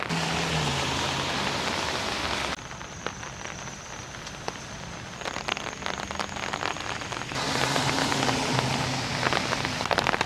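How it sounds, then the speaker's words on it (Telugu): Heavy rain pours down in a city near Penn Station, a dense, loud hiss of drops on surfaces that dips briefly in the middle before returning full and steady. "బాగానే పడుతుంది వర్షం"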